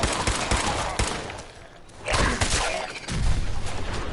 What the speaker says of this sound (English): That's what I love about the city, it's just random explosion.